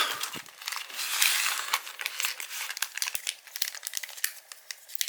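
A plastic wrapper on a Panini K League Prizm trading card pack crinkles and crackles steadily up close, with dense bursts of rustling through the whole stretch.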